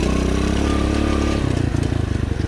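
A Racer 110 motorcycle engine runs close by while the bike slows on engine braking. It makes a steady, loud, throbbing putter that turns into distinct rhythmic pulses in the second half.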